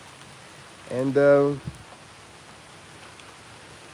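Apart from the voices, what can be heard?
rain falling outside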